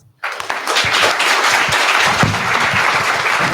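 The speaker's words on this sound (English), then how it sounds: "Big applause." At a startup pitch event, the crowd bursts into loud, sudden applause after a brief silence, and dense clapping continues evenly to the end.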